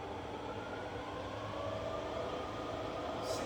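A rebuilt Bridgeport milling machine's spindle runs steadily, a continuous mechanical hum and whir with a faint rising tone, fairly loud and close with no talk.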